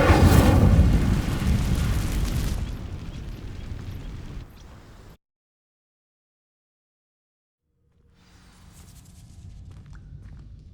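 A burst of Incendio fire spell igniting dry vines in Hogwarts Legacy on PS5: a loud whooshing roar that fades, drops to silence, then a low crackling rumble returns faintly.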